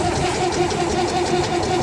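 David Brown 995 tractor engine idling after a cold start: a steady, loud, rough mid-pitched rumble with a fast even pulse, close up and continuous, no talking.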